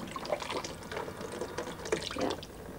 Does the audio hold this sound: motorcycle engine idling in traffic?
no